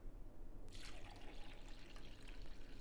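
Two cups of water pour from a cup into a yellow bowl holding Elmer's glue, a close, steady splashing stream that starts abruptly and runs continuously to the end.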